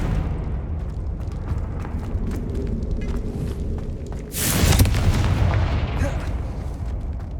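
A Confringo explosion spell goes off in the game Hogwarts Legacy, a sudden booming burst with a rumbling tail that rises over continuous game ambience and combat effects.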